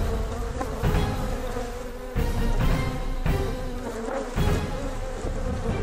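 A dense, steady buzzing of many Africanized killer bees, loud and close, swelling and dipping slightly in waves without any voices.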